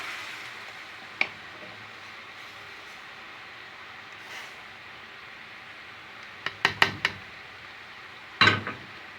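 Garlic sizzles faintly as it is poured over cooked lentils, a soft steady frying hiss running underneath, broken by a few sharp spoon clinks and scrapes against the pot, with no talk.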